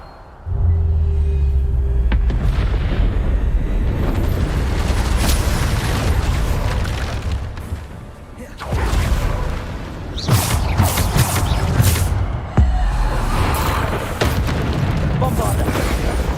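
A Bombarda explosion spell in the video game Hogwarts Legacy booms with heavy low rumbles and bursts that repeat through the stretch, alongside sustained combat noise and a voice speaking over it.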